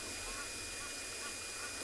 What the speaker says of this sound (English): I can only hear Egyptian geese and lots of other birds who are chirping here.